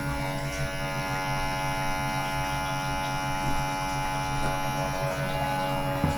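A vacuum sealing machine draws the air out of a bag of raw chicken wings headed for overnight marinating, giving a loud, steady electric hum and buzz held evenly throughout.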